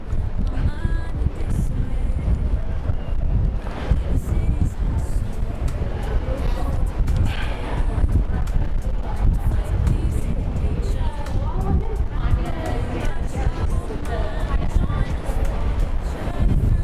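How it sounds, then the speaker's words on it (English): Steady wind buffets the microphone with a constant low rumble on the Thames Path in London, while a voice talks over the top throughout. "it's gotten windy all of a sudden."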